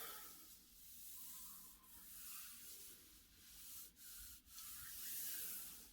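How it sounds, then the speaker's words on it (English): Paper gets rubbed by hand against a gel printing plate, soft close scratchy strokes in an uneven rhythm with a few brief pauses, quiet and with no voices. "Rub, rub, rub."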